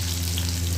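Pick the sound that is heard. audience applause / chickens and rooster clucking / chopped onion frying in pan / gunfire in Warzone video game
chopped onion frying in pan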